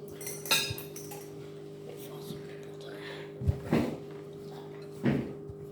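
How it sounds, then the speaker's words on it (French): Metal spoons set down on a surface in a kitchen-like room, a few separate light clinks and knocks spread out, with a couple of duller thuds, over a low steady hum and quiet background voices. "ça, c'est des cuillères qui sont pas à toi, donc tu les poses"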